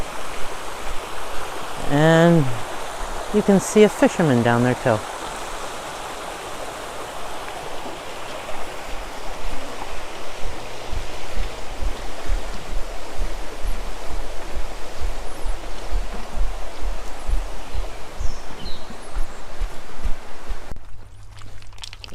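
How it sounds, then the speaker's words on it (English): Bushkill Creek flows below a trail bridge in Jacobsburg State Park, Nazareth, Pennsylvania, a steady broadband rush of moving water heard from above, with someone speaking briefly early on and footsteps on the bridge. "And the Bushkill Creek is right down there."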